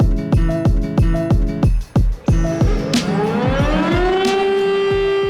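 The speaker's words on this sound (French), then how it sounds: "le seul moyen, ou presque, de transmettre une alerte en France, c'était via la sirène" A French civil defense alert siren wails loudly, its tone pulsing in short repeated bursts and then rising into a long sustained howl, heard alone with no voices.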